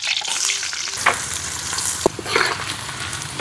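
Chopped onion hits hot oil with cinnamon, cardamom and bay leaf in a village kitchen pot, a loud, close, constant sizzle and crackle broken by a couple of sharp clatters.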